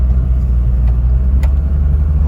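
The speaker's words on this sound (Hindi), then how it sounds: "अब जनाब देखें गाड़ी का साउंड।" A car engine running in second gear on a downhill road near Murree, Pakistan, a loud, steady, deep rumble close by, with no voices.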